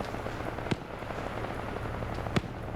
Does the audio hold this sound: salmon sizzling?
no